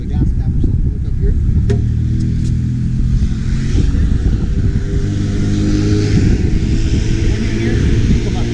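A helicopter engine runs up nearby as a loud, steady rumble with a continuous broadband roar. Voices talk over it throughout.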